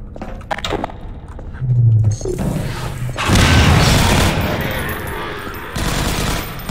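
A grenade blast amid combat in Half-Life 2: Episode One: scattered sharp clicks and shots lead into a heavy booming explosion with rumbling debris, followed by a second loud burst of noisy clatter.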